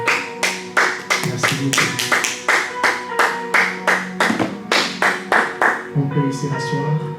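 Church congregation applauding in a steady, rhythmic clap together, loud and close, with a short spoken thanks near the end as the clapping tapers off.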